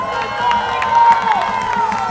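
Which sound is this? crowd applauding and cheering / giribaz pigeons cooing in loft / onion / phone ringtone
crowd applauding and cheering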